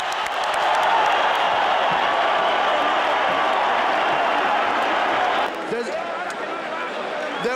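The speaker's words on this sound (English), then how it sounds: "Both for the fighters deserve a hand of applause." A large boxing arena crowd applauds and cheers in a loud, dense, continuous roar for the fighters Morales and Barrera, with announcers talking over it before the noise drops off abruptly.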